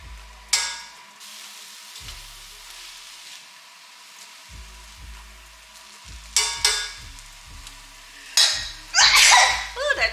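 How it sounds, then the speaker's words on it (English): Bell pepper and onion sautéing in a pan for veggie marinara, a low sizzle broken by scraping utensil clatters and sharper bursts of frying near the end. "But I do let my pepper and onion get a start."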